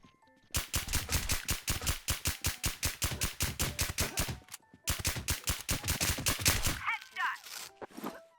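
Automatic gunfire from a video game, loud and sharply regular, comes in one long sustained burst and then a shorter second burst, followed by a few quieter sounds at the end.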